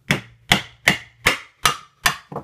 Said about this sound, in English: take your hammer and your nail, and you're going to want to find the center of this